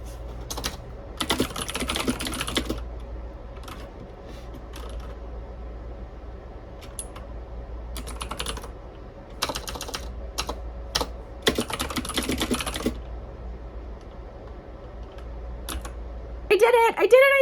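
Bursts of fast keyboard typing on a computer come and go while a book is being written, separated by pauses filled with a low fan hum, and a voice speaks briefly at the very end.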